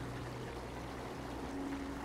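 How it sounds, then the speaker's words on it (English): A small river, a narrow trickle of water flanked by deep mud, flowing in a soft, steady low wash; quiet and continuous, with no one speaking. "A small river stood in my way."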